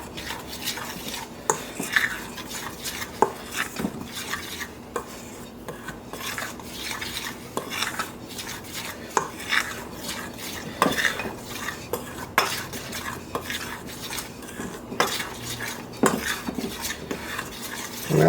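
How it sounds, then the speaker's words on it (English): Chicken coating ingredients, flour with seasoning and a pinch of salt, are mixed in a bowl: repeated scraping and clinking of a utensil against the bowl in an uneven, steady rhythm, close and without speech. "Mix that all together well."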